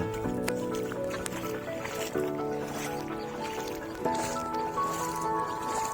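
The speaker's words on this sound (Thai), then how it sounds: "เดี๋ยวไทยบ้านก็จะพาเพื่อนๆลงไปลุยน้ำพี่น้อง" Feet wading and sloshing through shallow floodwater at the Wat Phong Sim temple entrance in Huai Thap Than, Sisaket, with steady splashing under a continuous tonal background.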